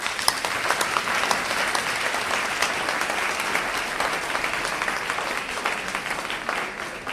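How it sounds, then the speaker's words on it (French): A church congregation in Winneba, Ghana applauding Pastor Henri, dense sustained clapping from many hands filling the room at steady loudness throughout. "Applaudissez Pasteur Henri."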